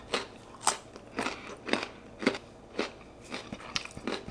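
Raw carrots crunched and chewed close up, with a steady run of about eight sharp, crisp bites and grinding chews and no talking.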